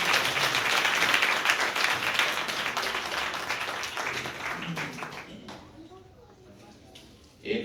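Vigorous applause from a church congregation during a Sunday service, loud at first then thinning and dying away, followed by a quiet stretch before a voice begins.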